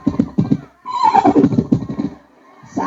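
A voices an imitation of a horse's whinny during a religious lecture, producing a rhythmic series of nasal, neigh-like bursts that rise and wobble in pitch, close and fairly loud.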